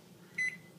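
A microwave oven gives a single short, clear electronic beep as its timer is set, standing alone over a faint room hum.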